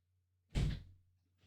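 A door being answered and opened makes a single short, muffled thunk and rattle close by, followed by a faint softer knock, against a low steady hum.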